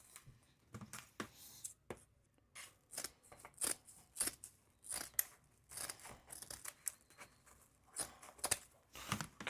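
Scissors snip repeatedly through cheap Dollar Tree craft mesh, a rapid, uneven run of crisp close-up cuts and rustles with no talking.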